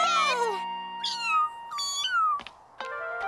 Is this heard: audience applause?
no